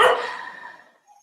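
A single puppy bark, loud and sharp at first, trailing off with a faint echo in a quiet room.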